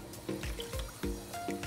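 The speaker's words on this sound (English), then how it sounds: "now it's time to add our slurry. So I'm gonna pour this in" Arrowroot slurry is poured into a simmering sauce, making brief, faint liquid splashes and trickles in a short burst.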